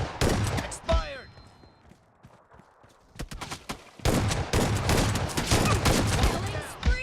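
Bursts of shotgun blasts and rapid M416 assault-rifle fire in the PUBG Mobile video game, loud and close, with a quieter lull midway before sustained dense gunfire resumes.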